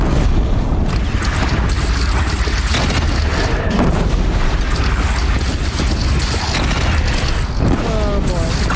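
Bridge shot down and collapsing in Horizon Zero Dawn, heavy booming crashes and rumbling debris that stay loud and dense throughout, with speech mixed in.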